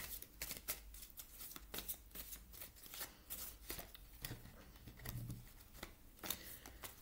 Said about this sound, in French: On va demander un tirage, non, une carte aux ailes de la sagesse ici.